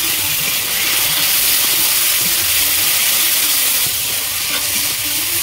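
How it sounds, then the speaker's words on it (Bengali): Chopped tomato tipped into hot oil with bubbling sugar, giving a loud, steady, close-up sizzling hiss that continues unbroken, with faint stirring beneath. "চিনি ফুটছে, এবার আমি টমেটো কুচি দেব।"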